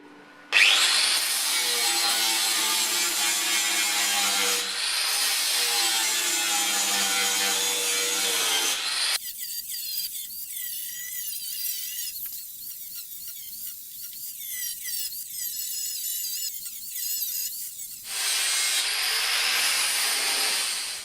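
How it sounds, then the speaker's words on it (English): An angle grinder works over welded patch repairs on a BMW E30 325i Sport body, a loud, sustained high-pitched abrasive whine that shifts in tone as pressure changes, with a brief pause before the grinding resumes. "I tried going as easy as I could with the grinder, but made a few hot spots in the process"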